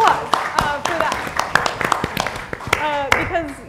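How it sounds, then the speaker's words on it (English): Applause at an investor conference: a scattered round of individual hand claps from a small audience, close and uneven, with a voice speaking over the clapping. "Let's give it a round of applause for that."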